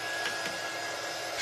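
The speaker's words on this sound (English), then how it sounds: "That's still a little wet. Let's hit him with the dryer." A hair dryer blows a steady, loud whoosh of air to dry a wet, freshly painted mini turkey shelf-sitter craft, with no talking.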